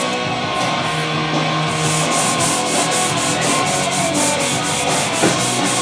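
Steady abrasive rubbing of a wooden surface being sanded to refine scratches, continuous and fairly loud with a rhythmic back-and-forth pulse, no talking.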